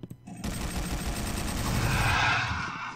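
A machine gun fires in the video game Cemetery Warrior 3 as a dense, rapid burst of shots, loud and continuous for nearly three seconds before tapering off.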